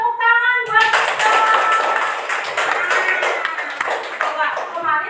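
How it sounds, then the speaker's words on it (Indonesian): A classroom of students breaks into sustained applause, many hands clapping in a dense, steady patter that fills the room after a brief ringing tone at the start, with voices mixed in. "Tepuk tangan buat kita."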